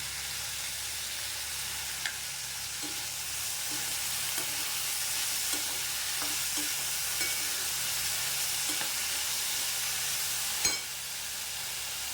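Vegetables, including potato, frying in a couple of spoons of oil in a pan: a steady close sizzle throughout, with scattered soft stirring clicks and one sharper knock near the end.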